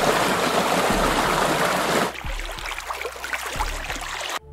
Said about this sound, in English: moving water